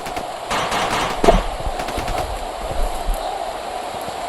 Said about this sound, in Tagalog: Paputok sa unahan mga tol